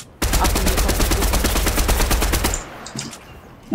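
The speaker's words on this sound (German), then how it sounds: "Achtung, hier kommt ein Schuss." A rapid burst of automatic gunfire in Fortnite rattles continuously for a couple of seconds, loud and close, then cuts off into quieter clicks.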